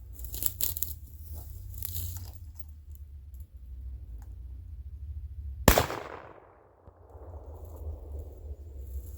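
A Panzer EG200 shotgun fires a single Federal 1290 one-ounce round, one sharp, loud blast with a ringing decay, after a stretch of quiet handling noise.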